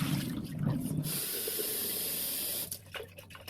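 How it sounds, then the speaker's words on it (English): Tap water runs hard and steady into a sprouting jar for a rinse, a close hissing stream that cuts off abruptly near the end and leaves a few drips and faint handling sounds. "I want to rinse the other jar one more time to make sure I got that vinegar out"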